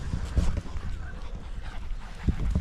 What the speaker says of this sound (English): The dogs are going nutty because there's loads of dogs